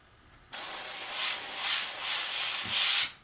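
Model airbrush spray gun blowing air with its trigger pulled back, a sudden loud, steady hiss starting after a moment of quiet and cutting off sharply about three seconds later.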